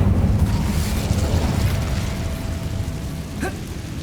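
A fire spell, Incendio, is cast in Hogwarts Legacy, giving a loud, continuous whooshing burst of flame with rumbling body across the clip, ending in a short rising magical chime near the close.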